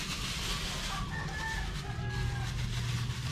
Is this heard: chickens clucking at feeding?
yes